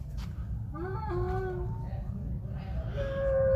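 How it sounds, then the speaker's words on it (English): Whale calls play from speakers at an aquarium exhibit in Palma, Majorca: rising, wavering tonal moans and whistles, the last one long and steady, heard alone over a constant low room rumble. "And these are some of the whale noises."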